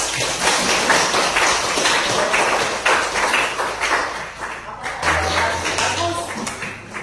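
Classroom applause during a cooperative Jigsaw lesson, a dense steady patter of many hands clapping close by for the full length, with some mixed chatter underneath.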